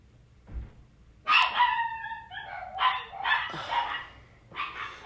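Several dogs bark and yip close to the microphone in a home, a loud burst of overlapping barks followed by more barking in short clusters, with no talk over them.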